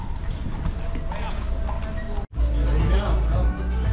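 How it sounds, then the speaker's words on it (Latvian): Horses clip-clop along a road on a rainy outing in Poland, hoof beats steady and fairly close under constant street noise, with people chatting nearby throughout. "Opā, zirgi."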